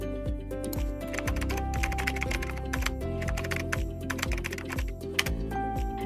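Rapid typing on a computer keyboard, a steady stream of close, crisp key clicks with no other sound.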